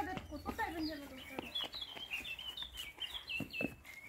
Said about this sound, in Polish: Uciszyć te ptaki jakoś?